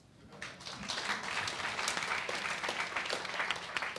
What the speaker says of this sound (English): I think maybe that deserves a round of applause.